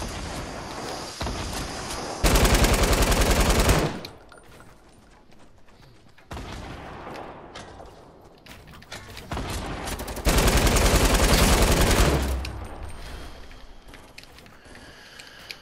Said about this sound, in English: I think they're shooting at you.